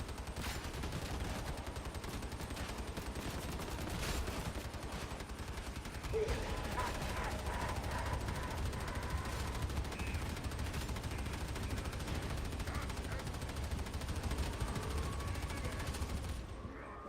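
Video game shooter gunfire rattles steadily throughout, with dense bursts of rapid automatic fire and single shots layered together at a moderate, continuous level.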